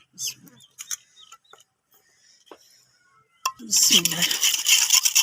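Sugar whisked into yogurt in a bowl in a village kitchen for chana chaat: a few light clinks and taps, then steady close scraping and clattering of the whisk against the bowl through the second half.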